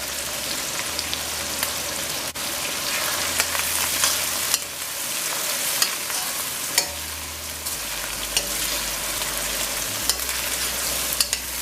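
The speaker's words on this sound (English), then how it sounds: "Now I'm going to add the garlic and wiri pepper, and the onion." Garlic, wiri pepper and onion frying in a pot, a loud, steady crackling sizzle close by with scattered sharp pops and occasional stirring, no voices.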